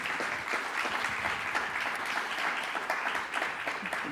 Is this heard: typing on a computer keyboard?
no